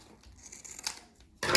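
A sewn grain feed bag is cut with scissors, giving soft papery snips and crinkles, then a loud rough tearing rush of plastic weave at the end, close by.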